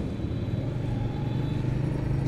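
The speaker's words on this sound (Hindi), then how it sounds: "एक टैंकर जा रहा है, मोटरसाइकिलों पे लड़के जा रहे हैं" Traffic on a busy city road in Narowal, with a tanker and motorcycles passing close by, a continuous rumbling engine drone with no pause.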